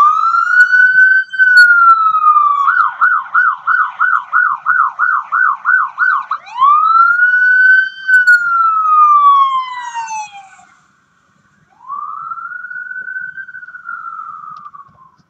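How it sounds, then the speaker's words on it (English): An ambulance siren sounds loud and close, a rising-and-falling wail that switches to a rapid yelp, then wails again before dropping in pitch as it passes; a brief gap follows and a fainter wail resumes. "The siren you hear has a high pitch."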